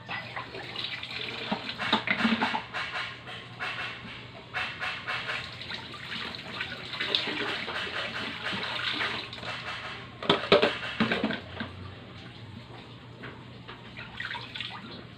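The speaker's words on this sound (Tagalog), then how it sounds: "Paliguan natin yung garapon natin kasi maalikabok." Running tap water splashes over a dusty glass jar being rinsed clean, a quiet irregular trickle with occasional louder splashes and clinks close by.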